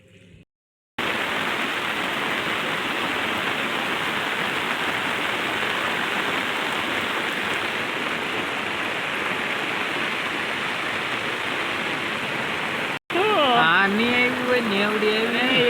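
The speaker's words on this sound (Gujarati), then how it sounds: "ફૂલ વરસાદ આજે" Heavy monsoon rain pours down steadily in Gujarat, a loud, dense, unbroken hiss that starts abruptly and holds for a long stretch before a voice speaks over it near the end.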